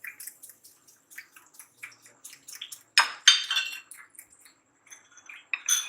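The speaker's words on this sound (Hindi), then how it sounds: "आप इसको कांटे से करें ताकि ये अच्छी तरह मिक्स हो जाए" Fork tapping and clinking against a bowl while whisking egg, milk and sugar for French toast, a quick run of light clicks and scrapes, close and fairly quiet, with a louder flurry of clatter midway.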